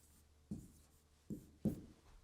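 Marker or chalk writing on a classroom board, three short scratchy strokes in a quiet room, separated by brief pauses.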